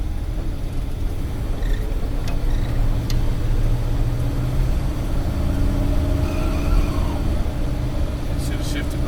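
A 1956 Cadillac Sedan DeVille V8 runs with a transmission that fails to shift, giving a steady low engine rumble and hum throughout, heard close and fairly loud with faint higher tones drifting above.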